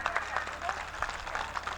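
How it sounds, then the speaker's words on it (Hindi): A crowd claps at a political party rally in a Gorakhpur park to welcome new members. Scattered, uneven claps ring out over a busy, reverberant background. "जोरदार ताली बजा करके उनका स्वागत करिए"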